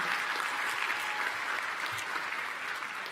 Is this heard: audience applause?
yes